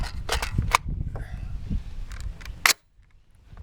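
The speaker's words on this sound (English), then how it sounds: "So still using the Steyr, the Austrian mags." Steyr rifle firing at an outdoor shooting range, a few sharp cracks spaced irregularly, the last one loudest, followed by near silence.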